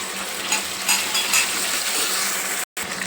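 Onion and tomato slices fry in a pan for egg fried rice, a steady close broadband sizzle with a few soft stirring scrapes and a brief dropout near the end.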